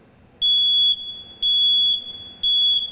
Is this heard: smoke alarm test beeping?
yes